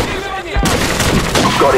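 A gunshot in Call of Duty 4: Modern Warfare hits as a sudden loud broadband blast about a third of the way in, with a dense rumbling tail that carries to the end of the clip.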